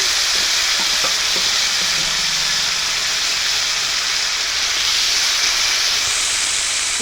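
Panch phoron spices crackle in hot oil for a vegetarian banana-flower dish, producing a loud, continuous hiss and sizzle with a few stirring knocks early on.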